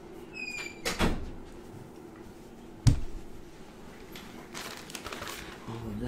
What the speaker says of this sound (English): Oh, and close the door.